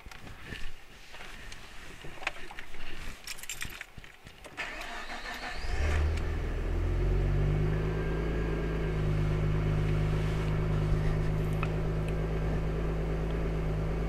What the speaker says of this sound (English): we're going to try and start the vehicle